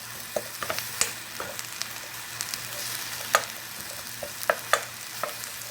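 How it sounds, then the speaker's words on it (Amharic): Onions dry-frying in a pan without oil give a steady, moderate sizzle, broken by scattered ticks and scrapes as they are stirred. "ሽንኩርቱ እንደዚህ እንጠብሰዋለን ካለ ዘይት።"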